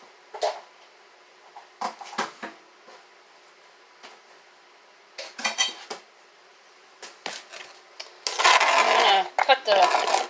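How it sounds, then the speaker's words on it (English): Chopped onions scraped off a board into a dish in a home kitchen, a series of short knife scrapes and clacks with a longer, louder scraping burst near the end, with quiet pauses between. "Just going to grab my dish here and scrape my onions into it"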